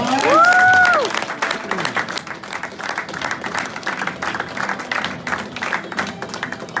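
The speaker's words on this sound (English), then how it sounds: "Give this lady a big round of applause." A hypnosis show audience breaks into sustained applause, dense clapping that holds steady for several seconds after a brief whistle-like tone at the start.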